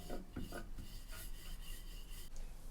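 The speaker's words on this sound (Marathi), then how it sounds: "तर आता पोळी लाटायला लागली मी छान अशी." Sesame-filled flatbread dough is rolled out with a rolling pin, giving a quiet, continuous scraping and rubbing with a few soft knocks near the start, close by and without talking.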